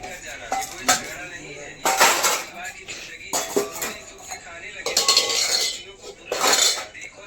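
Steel utensils and dishes clatter and clink in repeated bursts close by, while people talk over the handling.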